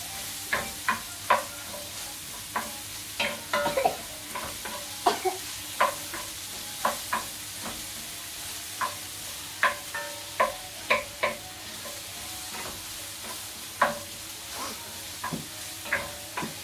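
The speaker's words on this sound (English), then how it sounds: "Right, so give that a stir. Get it in the oil, get the sausage fat into it as well." Onions are stirred through hot oil and rendered sausage fat, giving a soft, steady sizzle broken by a run of sharp utensil knocks and scrapes against the pan.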